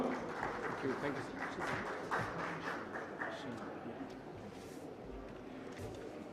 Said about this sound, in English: Thanks for the warm applause and the welcome.